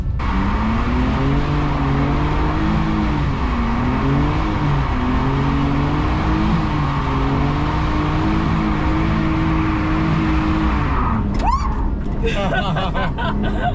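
A drift car slides across a field with its engine wavering and revving loudly throughout. Excited voices run beneath it, and the engine noise cuts off abruptly near the end, followed by scattered rustling.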